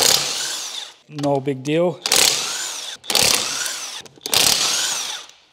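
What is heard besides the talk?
impact wrench tightening car wheel nuts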